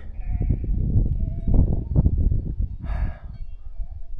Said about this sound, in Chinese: 山下传来这个羊群呐、